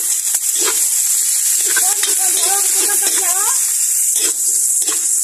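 Food with ginger sizzles loudly in a pan as it is stirred, a continuous hiss broken by scraping strokes, while a person speaks over it.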